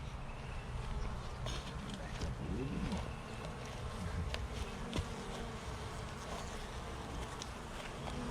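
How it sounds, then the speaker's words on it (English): Large honeybees buzz steadily around a recently rescued hive only a few weeks old, a dense, continuous drone close by with occasional faint movement sounds. "Some nice big bees. Buzzing my head down."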